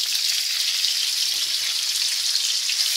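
Monkfish frying in hot oil and butter with sage, a steady, bright, hissing sizzle, close and continuous.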